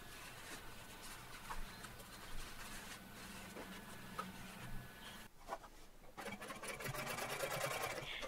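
A sewing machine top stitches a jeans hem in a rapid, steady mechanical whir with light ticking, briefly stopping near the middle before running again slightly louder.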